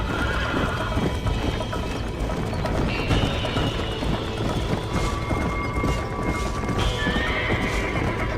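Galloping hooves clop in a steady rapid rhythm throughout Red Dead Redemption gameplay, with a horse whinnying several times over the pounding, loud and close.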